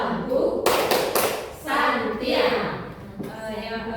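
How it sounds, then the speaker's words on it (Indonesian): A group claps the tepuk santiang chant at an Indonesian teachers' gathering: sharp, fast claps in rhythmic bursts, mixed with voices calling the chant close by. "Sekali lagi kita kasih tepuk santiang untuk Bu Hastin."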